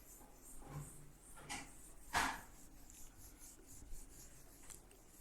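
Rubbing an eraser across a classroom board, a few soft scrubbing strokes with one sharper swipe in the middle, close but faint in a quiet room.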